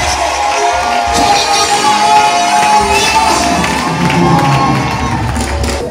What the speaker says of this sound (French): Je veux que tu acclames Jésus en poussant des cris de joie.